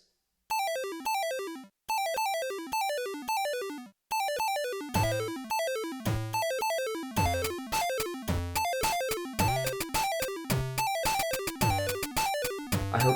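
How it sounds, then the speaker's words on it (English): A bright chiptune pop track on a Pocket Operator PO-20 Arcade: blippy square-wave notes falling in quick patterns, then picking up a punchy beat with steady electronic drum hits. "You've written your first official chiptune pop backing track using the Pocket Operator PO-20."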